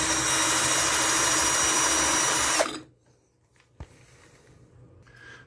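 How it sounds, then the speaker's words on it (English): Cordless drill backs out long screws from a mid-century American Standard push-pull tub and shower valve escutcheon plate, a loud steady whine that cuts off, followed by a sharp click and quiet handling. "we're going to take our cordless drill and we're going to remove these"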